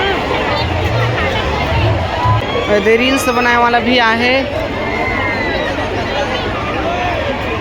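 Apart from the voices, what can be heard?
crowd bustle at Rajim Kumbh Mela fair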